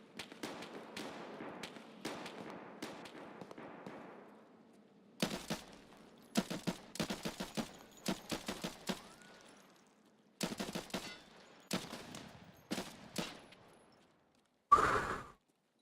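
Escape From Tarkov gunfire: repeated sharp shots in rapid volleys and bursts, fairly close, separated by brief pauses, with a final louder crack at the end and no talk.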